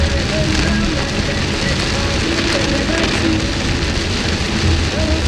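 Heavy rain falls steadily during flooding in Deventer, a dense, continuous hiss of water on surfaces that holds at an even level, with voices talking faintly underneath.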